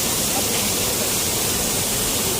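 A waterfall in the mountain barangay of Tagbao, Cebu City, roaring as a dense, steady wash of falling water, loud and close, with no break across the short stretch.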